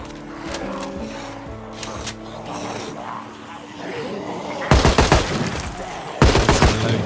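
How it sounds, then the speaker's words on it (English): M16 assault rifle fired in Project Zomboid, two fast bursts of loud, sharp shots near the end after a quieter stretch of game sounds and someone speaking. "there we're shooting them at point blank range with an M16 assault rifle"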